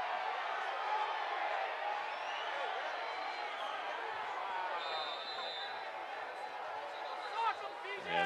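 A stadium crowd at a Sacramento Republic versus Real Monarchs soccer match keeps up a steady, distant roar of cheers and whoops, with a broadcaster talking over it throughout.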